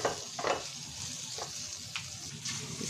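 Dried figs (anjeer) fry in a pan for laddu, giving a soft, steady sizzle with a few brief scraping stirs, close and quiet, no voices.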